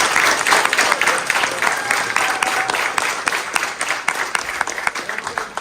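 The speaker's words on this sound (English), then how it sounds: "Oh yeah, round of applause," Applause from a student club audience after an intern panel, a dense, fairly close patter of clapping that stays strong throughout with slight fluctuations.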